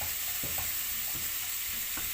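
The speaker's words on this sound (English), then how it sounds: "in a fry pan, we've put a little bit of olive oil, that little bit of garlic, and now we've popped in our mincemeat" Mincemeat frying in a fry pan with garlic and olive oil, a steady broad sizzle with a few soft stirring scrapes spaced through it, close and continuous without talk.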